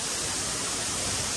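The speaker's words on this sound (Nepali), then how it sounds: "यो चाहिँ कागेश्वर मन्दिरको झरना हो है गाइस" Steady rushing water of a waterfall at Kageshwori temple, a dense broadband roar filling the whole moment without pause, close and constant with no voices.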